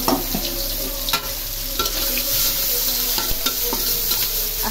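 Onions are tipped into hot oil in a pan to fry for an egg dish, giving a steady close-up sizzle with faint stirring scrapes throughout.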